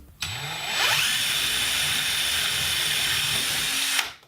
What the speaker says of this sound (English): So I'm gonna drill my pilot holes now for this one.